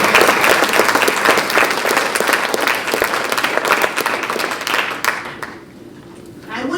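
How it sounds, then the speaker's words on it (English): An audience at a Black History Month celebration breaks into loud, dense applause that runs for several seconds and then fades away to near quiet, with a voice heard faintly under it. "Give yourself a round of applause for being with us."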